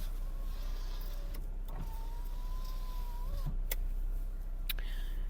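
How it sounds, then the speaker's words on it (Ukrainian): The electric power windows of a 2007 Daewoo Lanos whir steadily for about five seconds, moderately loud and up close, with a few sharp clicks near the end and no talk. "Ось тут у нас електросклопідйомники"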